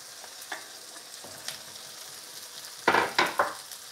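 Onions frying in a pan for a home-cooked chilli paneer, a steady low sizzle under three loud stirring scrapes near the end, with faint clinks earlier.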